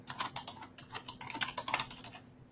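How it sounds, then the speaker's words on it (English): Quick, uneven keystrokes on a computer keyboard, typing an entry into a field in service-management software, the clicks close and fairly soft, running in bursts with brief pauses and no talking. "you can create new ones just by typing right on that line"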